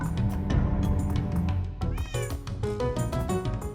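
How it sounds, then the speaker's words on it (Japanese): Several cats meow in the Minecraft video game, loud and overlapping in rapid succession, with a few sharper rising cries standing out near the end and no speech over them. "犬や猫たちが元気そうで何よりです。"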